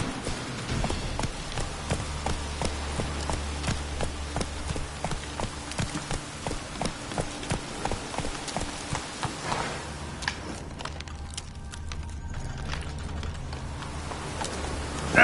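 Roach, a horse in The Witcher 3, gallops with a steady, rhythmic clip-clop of hooves over a low ambient rumble, the hoofbeats continuing throughout and fading slightly toward the end.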